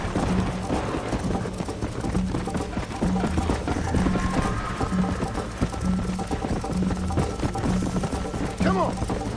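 Horse hooves clip-clop at a steady galloping rhythm in the Red Dead Redemption video game, continuous and fairly loud under a busy mix of game sound and occasional voices.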